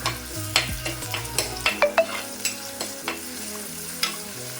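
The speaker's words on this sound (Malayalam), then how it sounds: "ഒരു തണ്ട് കറിവേപ്പിലയും ഇട്ട് വഴറ്റുക." Tamarind and a sprig of curry leaves are sautéed in a pan for a Kerala fish curry, giving a soft sizzle broken by repeated scraping and clinking strokes of a spoon stirring at a steady pace.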